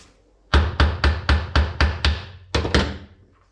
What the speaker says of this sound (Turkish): Uç kısmını çekiçleyerek sivritin.